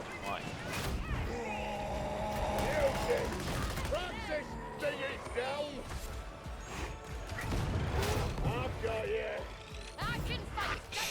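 Heavy bolter fire in a video game: dense clattering shots and mechanical crashes pile up with loud impacts, while a player talks over the chaotic combat.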